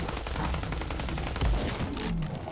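A modded Bullpup R91 assault rifle chambered in 5.56 fires a rapid automatic stream in Fallout 4 against a Deathclaw, dense close shots with a heavy thump near the middle, no talking.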